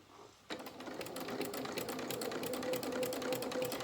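A sewing machine stitches small fabric pieces for a rabbit doll's dungarees, a steady rapid mechanical whirr that starts abruptly after a brief quiet moment and runs close and even to the end.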